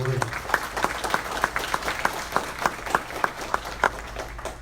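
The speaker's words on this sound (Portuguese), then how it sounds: "peço aqui um aplauso à diretoria do sindicato reeleita no dia de hoje" An audience at a union lecture applauds the re-elected union board, with sharp, evenly spaced claps forming a rhythmic, near-unison beat over a murmuring hall.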